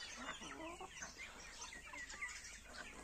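Black copper Marans chickens cluck and chatter in overlapping bursts, fairly close and quiet, with faint chirps, a continuous flock sound with no voices over it.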